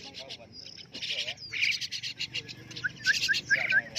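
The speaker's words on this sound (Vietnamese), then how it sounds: "Hiện tại là những con khiếu, con họa mi ở trên này" Hwamei and laughingthrush songbirds call at a bird market, a busy mix of chirps, warbles and short repeated whistles, moderately close and fairly faint against light background chatter.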